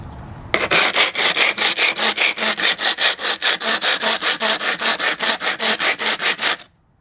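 Material is rubbed hard against cement so its edges fray, a loud, close, rhythmic rasping scrape repeated about four times per second for several seconds, then stopping abruptly.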